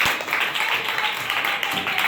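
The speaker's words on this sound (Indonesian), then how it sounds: "tepuk tangan untuk Bapak." Classroom applause during a school election simulation, a short burst of many hands clapping at once, dense and steady for about two seconds.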